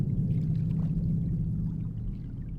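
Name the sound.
flowing water in a harbor, from video game The Longest Journey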